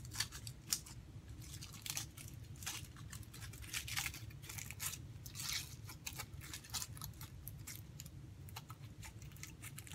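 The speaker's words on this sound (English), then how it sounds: "the foil's ripping apart pretty easy" A foil wrapper on a Carolina Reaper spicy chocolate bar being torn open, giving close, busy crinkling and ripping bursts that keep going throughout, with sharp tearing spikes and no talking.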